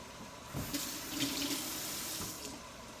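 Water runs steadily into a kitchen sink as a can of beans is drained, a soft continuous splashing with a few louder gushes and clunks, heard alone at close range.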